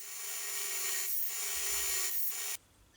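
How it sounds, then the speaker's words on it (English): Steel knife bevels made from an old garden saw are rubbed across sharpening stones in steady, close rasping strokes for about two and a half seconds, then stop abruptly into near quiet. "finished them off on camera with stones."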